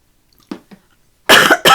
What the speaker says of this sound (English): No, it still didn't stop me coughing.